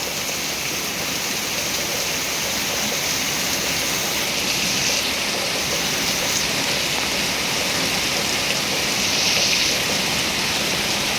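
Steady rain pours over open rice paddies in a dense, even hiss that continues without a break, with no voices.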